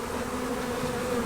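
Honey bees in a Maisemore commercial poly hive during a nuc transfer give a dense, continuous, close buzzing hum, steady and fairly loud, with no voices.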